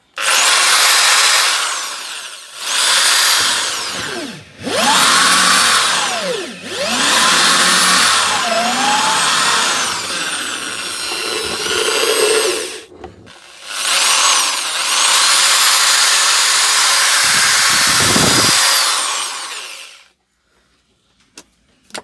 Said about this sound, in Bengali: এখন আমি ডাইরেক্ট লাইনে দিয়ে আপনাদের চেক করে দেখাবো ড্রিল মেশিনটি কীরকম চলতেছে।